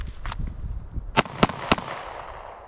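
Handgun shots fired in quick succession after a draw from concealment at 3 yards during a qualification course, several sharp close reports within about a second, ringing out over a quiet outdoor background.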